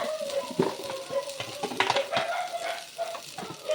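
Puffed rice snack stirred in a hot pan, dry scraping and rustling strokes repeating over a low steady sizzle and a faint hum.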